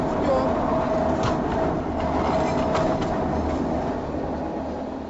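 Small narrow-gauge railway train running, a continuous close rumble and rattle of the cars rolling along the track with steady mechanical noise throughout, no talk audible above it.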